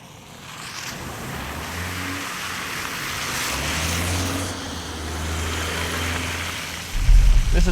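A 2012–2013 Subaru Impreza drives a rough off-road track at an adventure park in Hawaii, its engine droning steadily up close with tire and body rumble, then a sudden heavy jolt and clatter near the end.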